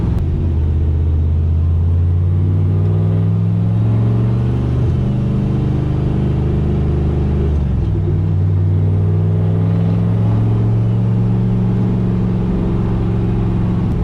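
A heavy turbocharged truck engine drones loudly and rises in pitch as it accelerates to 2600 rpm in third gear, pausing at gear shifts before climbing again, deep rumbling throughout.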